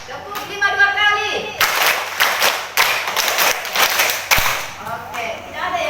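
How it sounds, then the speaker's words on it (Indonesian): Schoolchildren in a classroom clap a five-clap rhythm twice in a row, producing a long, busy stretch of loud group clapping with distinct accents, set between spoken instructions and classroom voices. "Tepuk 5 2 kali."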